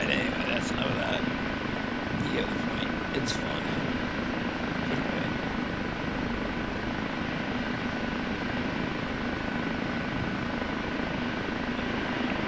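A Kiowa helicopter in a flight simulation game, its engine and rotor holding a steady, even drone with a thin whine for the whole stretch, while a voice talks over it.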